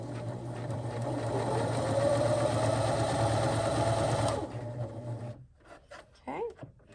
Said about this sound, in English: I'm going to just do a quick seam so you can see that this is very quiet and it has a beautiful stitch